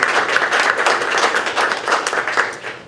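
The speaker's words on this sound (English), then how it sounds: "so I want one more round of applause for that." Audience applause at a Port Houston business launch event, a dense, steady burst of many hands clapping close by for about three seconds.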